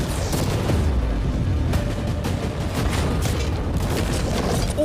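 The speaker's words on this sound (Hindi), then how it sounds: "ठीक है शॉन, अब हम तुम्हारी नई यॉट पर कैनन्स को शूट करने वाले हैं।" Cannons firing at a new yacht, loud booming blasts with sharp bursts of impact and debris over a constant rumbling din, shots landing in quick succession.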